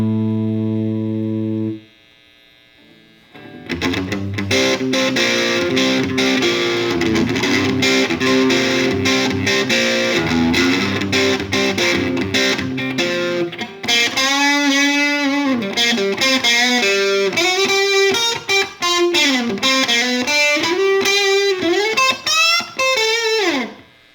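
An electric guitar plays through a Fender Frontman practice amp with heavy distortion. It opens with a humming electronic tone, then loud, fuzzy chords, and later bending lead lines ring out up close.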